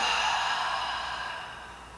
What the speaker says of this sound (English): Opening the mouth. Just let all the air out.